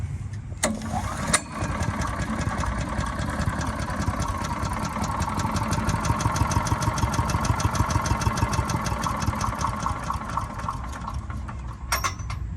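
A Predator 212cc engine on a Harbor Freight wood chipper runs close by with a steady rapid putter, slowing slightly as it struggles, with a couple of clanks near the start and end.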